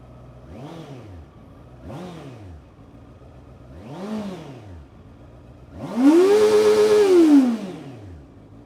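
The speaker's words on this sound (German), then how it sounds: "Das gibt vielleicht einen ganz guten Eindruck, wie viel die originale Soundanlage von Honda durchaus schon hergeben kann." A 2024 Honda CBR 650 R on its original exhaust is revved three times in short, sharp blips, then held in a longer, louder rev that peaks and falls away, close and clear.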